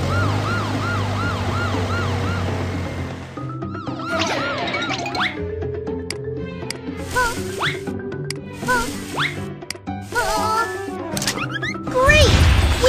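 A police car siren in a preschool learning video game wails in rising and falling sweeps, mixed with cartoon crashes, whacks and bright game sound effects, and a loud burst comes at the end.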